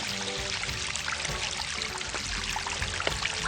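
Water runs down a trail turned creek bed in the wet season, a steady close rushing trickle with no voices.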